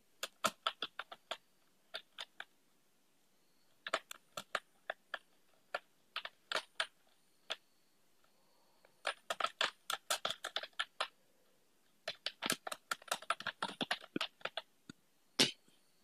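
Keys pressed on a computer keyboard while writing in MS Word: faint, close clicks in short irregular bursts with quiet pauses between, and no talking.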